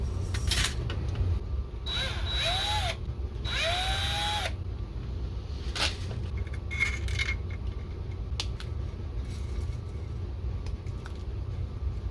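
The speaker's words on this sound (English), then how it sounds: "I'm just gonna drill them and glue them." A power drill whirs in two short bursts drilling Nerf blaster parts, rising in pitch as it spins up, followed by scattered taps and clicks of handling.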